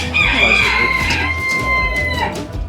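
Roosters crow with long drawn-out calls over a backdrop of steady clucking from many large show chickens at a poultry show, a busy, continuous poultry din.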